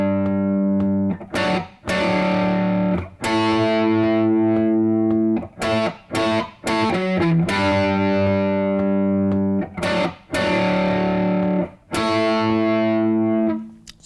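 A distorted electric guitar plays the chorus of a song in loud, ringing power chords, hit in short repeated groups with brief choked stops between them, alone with no voice.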